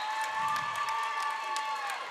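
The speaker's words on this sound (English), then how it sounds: "The St. Mary's crowd is liking that one." St. Mary's home crowd at a girls' high school basketball game applauding and cheering, a broad roar of claps and shouts heard from across the gym under a steady tone.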